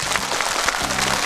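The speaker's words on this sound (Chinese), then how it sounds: "我们掌声欢迎他哥哥来。" Stage audience applauding as a fire-breathing yoga performer's brother walks out, a short burst of dense clapping under a faint voice.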